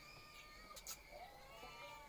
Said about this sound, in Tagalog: Andito po yung aming mga alagang pusa.